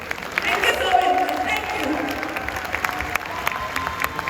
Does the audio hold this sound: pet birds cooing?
no